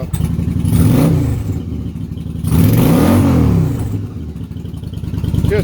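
A 2004 Yamaha V-Star 1100 motorcycle runs after a cold start, its V-twin engine rumbling loudly and close with two swelling revs rising and falling over a steady idle.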